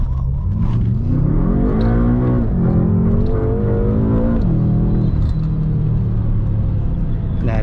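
A 680 hp BMW M5 engine revs loud and close, its rising and falling throttle blips over a deep rumbling idle, with someone talking throughout.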